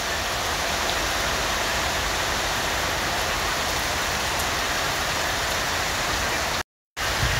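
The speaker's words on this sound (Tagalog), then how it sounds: "Lumalakas ang ulan, grabe." Heavy summer rain pours down in a dense, steady roar, constant and loud, cut off briefly near the end.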